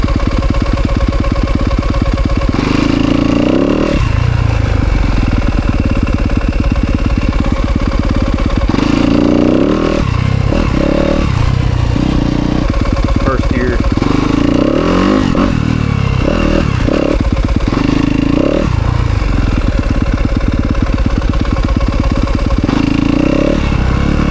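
A 2025 Yamaha YZ250FX dirt bike engine runs in second gear, loud and close throughout, with a steady throbbing idle broken by repeated throttle blips and revs and some mechanical clatter.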